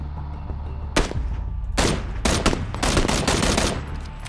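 PUBG gunfire: a series of loud, sharp shots at irregular intervals, single cracks followed by a denser cluster of rapid reports over a steady low background hum, with no talking.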